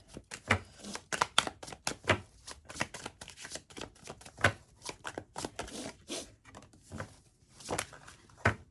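An archetypes oracle deck shuffled close up, its cards riffling and tapping in quick irregular bursts for several seconds, with no voices over the soft flapping.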